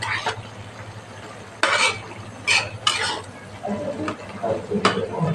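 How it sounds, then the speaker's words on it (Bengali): A spoon stirring jackfruit and prawn curry in a pan gives a few scraping, clinking strokes against the metal over a steady low hum, with faint bubbling between strokes. "মিশিয়ে দিচ্ছি এটা ভালো করে।"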